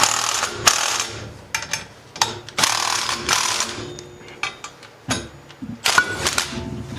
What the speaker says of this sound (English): We're going to torque them down and see what happens here.